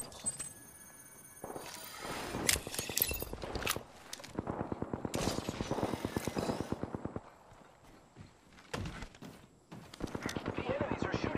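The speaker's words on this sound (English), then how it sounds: "The enemies are shooting at me." Enemy gunfire in Apex Legends arrives in several rapid automatic bursts of sharp, loud shots separated by short pauses, with game sounds and a voice between them.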